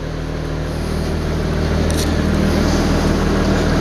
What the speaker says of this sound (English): Inside everything is fairly quiet for a diesel engine.